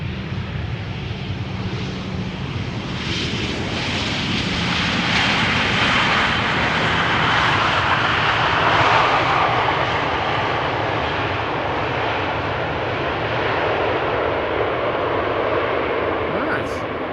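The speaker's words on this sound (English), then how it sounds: "the next airplane on Polderbaan touching down, arriving for Copenhagen, is an EasyJet A319" An EasyJet Airbus A319 landing on the Polderbaan runway at Amsterdam Schiphol Airport: a loud, sustained jet engine roar that swells and rumbles for many seconds, with voices talking over it.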